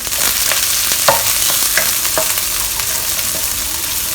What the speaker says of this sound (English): We're going to add in 3 cloves of garlic chopped, 1 whole onion sliced. Fry this for a while first.